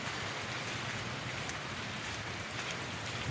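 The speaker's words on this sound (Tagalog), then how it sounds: "Ito malakas yata ulan eh." Heavy rain pours steadily in a broadband hiss at an empty, abandoned workplace, with drops pattering on surfaces throughout and no voices.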